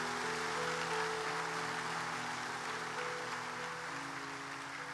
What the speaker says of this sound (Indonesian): Beri tepuk tangan kepada Pastor Hamzah.